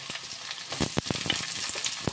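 Whole and crushed garlic dropped into hot mustard oil, a close crackling fry with sharp spatters and pops over a continuous sizzle.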